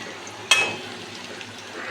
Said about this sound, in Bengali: আলুটা অনেকটাই ভাজা হয়ে গেছে